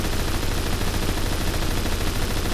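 Sustained automatic gunfire from a low-recoil gun in the video game Phantom Forces, a loud dense continuous rattle of rapid shots that fills the whole stretch without pause.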